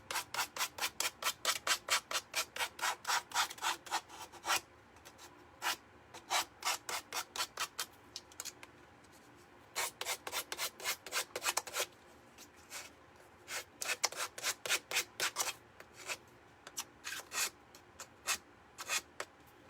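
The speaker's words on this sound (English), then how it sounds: "I'm just going to take my nail file and I'll sand off the excess all the way around." A nail file sands the excess material off the edge of a door hanger being made over, in quick, close, rhythmic rasping strokes that come in bursts with short pauses between them.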